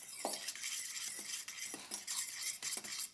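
A utensil scrapes and clinks around a bowl while graham cracker crumbs and sugar are mixed for a cream cheese pie crust, with repeated rhythmic strokes and light knocks against the bowl, alone and fairly close.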